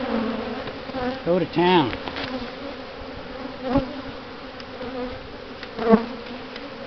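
Honeybees buzzing around an open hive during an inspection, a steady insect drone with a few louder passes close to the microphone; people talk briefly nearby.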